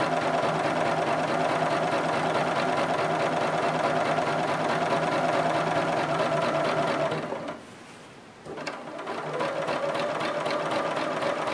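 A sewing machine stitches a quilt grid design, running in a loud, steady, rapid whir, briefly pausing and then starting up again.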